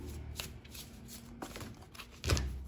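A Cigano oracle card deck being shuffled by hand, soft riffling and flicking of cards in quick bursts with a louder slap near the end, close and quiet with no talking.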